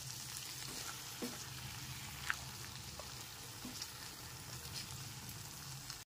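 Soft sizzling of a potato and eggplant curry as fresh cream is stirred in, with faint scrapes and small clicks of a spoon against the pan over a quiet, even frying hiss.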